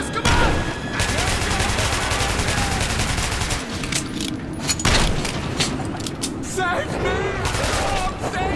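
Heavy gunfire in Metro 2033 Redux rattles in dense bursts and volleys, loud and nearly continuous, with sharp booming shots breaking through.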